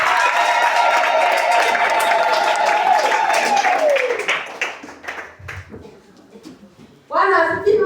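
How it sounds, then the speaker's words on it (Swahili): A church congregation claps together in praise during a Nativity service, loud and dense at first, then thinning into scattered claps before voices rise again. "Shangilia Bwana Yesu kwa makofi"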